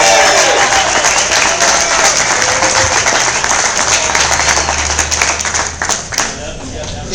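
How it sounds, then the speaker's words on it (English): Crowd applause at an election night party for an Assembly campaign, loud sustained clapping from many people close by, thinning toward the end. "He deserves a big round of applause."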